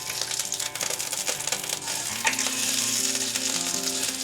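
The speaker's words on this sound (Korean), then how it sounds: "잘 건진 팬을 중약불로 조절해 주시고 앞뒷면을 갈색빛이 돌 때까지 노릇하게 구워줍니다" Tteokgalbi patties fry in oil in a pan over medium-low heat, giving a steady, close, crackling sizzle with occasional soft pops and scrapes.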